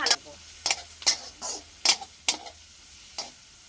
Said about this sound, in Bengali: ভালোভাবে নেড়ে ভেজে নেব